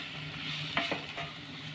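Grated bitter gourd is stir-fried with onion and garlic in hot oil, a soft close sizzle with a couple of quick stirring scrapes in a brief moment.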